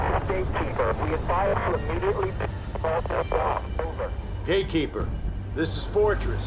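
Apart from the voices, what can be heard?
radio transmission breaking up in Battlefield 4 video game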